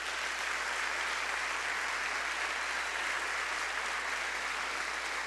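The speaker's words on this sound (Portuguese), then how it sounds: "Dê um aplauso ao Senhor Jesus." A church congregation applauds during a sermon on family, a dense even wash of clapping at a moderate distance that stays steady for the whole stretch, with no voices rising above it.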